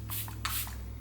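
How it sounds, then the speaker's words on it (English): Two short hissing bursts of a skin finishing face mist spray, close and soft, separated by a brief pause over a low steady background hum. "Let's spray a little bit now just because it's so nice."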